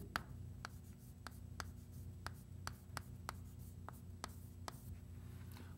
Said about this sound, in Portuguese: Vou escrever isso aqui.